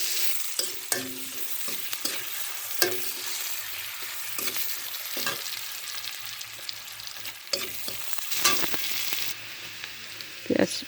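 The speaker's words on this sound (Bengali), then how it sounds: "পেঁয়াজটা এরকম বাদামি কালার করে ভেজে নিতে হবে। দেখুন ভাজা হয়ে গেছে।" Onions fry in a pan with bay leaves, browning in a steady soft sizzle, broken by occasional scrapes and taps as a spatula stirs them. Close and fairly quiet, with no speech.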